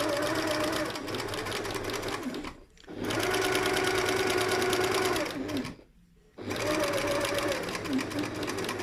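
A domestic sewing machine tacks 2-ounce wadding around a Christmas stocking without a walking foot, running in steady, loud, even bursts with two brief pauses between stitching runs.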